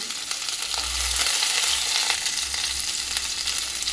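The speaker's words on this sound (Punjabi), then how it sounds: "ਇਹ ਆਪਾਂ ਬਰਾਊਨ ਕਰ ਲੈਣੇ ਕਿਉਂਕਿ ਕਰੇਲੇ ਪਹਿਲਾਂ ਆਪਾਂ ਭੁੰਨ ਲਾਂਗੇ" Bitter gourd sizzles and crackles in hot oil as it browns, a steady frying hiss with occasional stirring scrapes and low pan rumbles; no one speaks.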